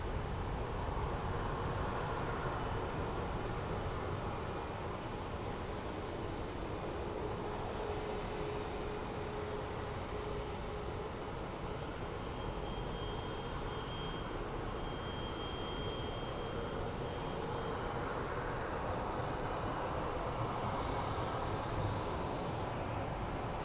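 A heavy jet airliner at Phoenix Sky Harbor airport gives off a steady, broad roar of engine noise that holds at an even level throughout, with no voices.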